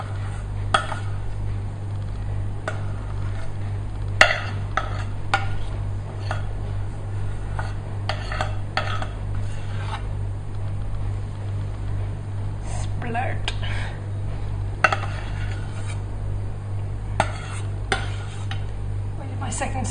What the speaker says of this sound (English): Scrape what you can out the pan.